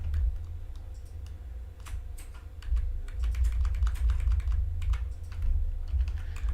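Steady typing on an unfamiliar computer keyboard, a continuous run of light clicking keystrokes over a low constant hum, close and moderately loud, with no one speaking.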